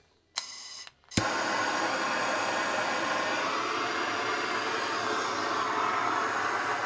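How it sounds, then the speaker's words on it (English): A Searsol searing attachment on a propane torch ignites with a couple of brief clicks and pops, then settles into a steady, loud, broadband roaring flame that continues without a break. "And the Searsol works with a butane torch. Nope, propane torch. Turn it on."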